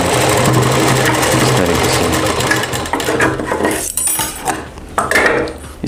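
A sewing machine stitches the side seam of a kurti, a rapid mechanical whirr running close and steady at first, then breaking into short stop-start bursts with light clicks of handling.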